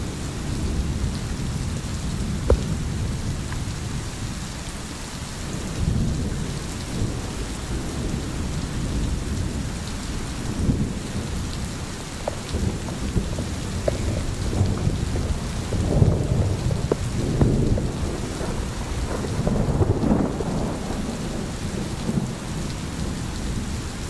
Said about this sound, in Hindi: सावन की बारिशें शुरू हो गई